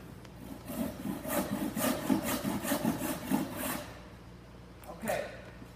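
Hand saw stroking back and forth through wood, cutting the shoulder of a cross lap joint: a steady run of rhythmic rasping strokes at close range, then stopping, with one brief scrape after a pause.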